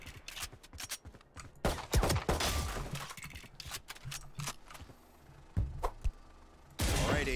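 Gunfire in the video game Valorant at targets and bots, sharp close shots in bursts and single cracks, with mechanical clicks and rattles between volleys.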